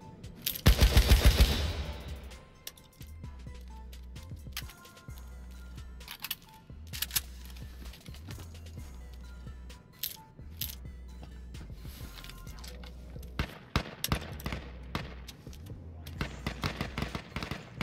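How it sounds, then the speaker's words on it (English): Bursts of automatic gunfire in the online survival shooter H1Z1, a dense rapid volley at first, then scattered single shots and short bursts over a low steady in-game hum. "Maybe if I shoot some."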